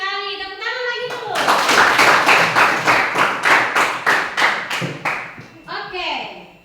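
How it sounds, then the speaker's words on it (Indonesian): A class of junior high students clapping in a school lesson, a rhythmic burst of about a dozen sharp, loud, unison claps in a steady pattern, with children's voices heard before and after. "Tepuk tangan lagi dulu."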